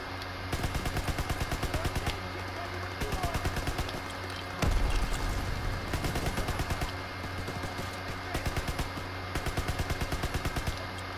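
Automatic weapon fire in Call of Duty WWII crackles in rapid bursts of shots with short gaps between them, loud and close, with a heavier blast partway through.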